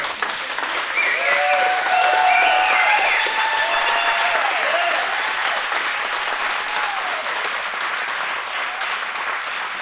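An audience at a book reading in an arts center in Carrboro, North Carolina, applauding loudly and steadily for about ten seconds, with a few whoops and cheers rising above the clapping.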